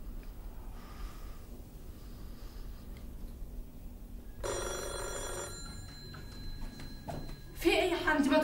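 A telephone rings in a home, its bell coming in a short burst partway through and again near the end over a quiet background, with faint breathing and rustling between rings.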